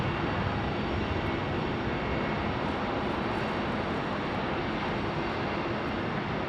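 Airliners departing Phoenix Sky Harbor International Airport, heard as a steady, broad jet roar that stays strong throughout without a break, with no talking over it.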